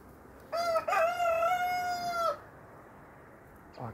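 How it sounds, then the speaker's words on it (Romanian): A single hoarse rooster crows once, a rough, strained call lasting about two seconds, fairly close against quiet background noise. "cam răgușit cocoșul"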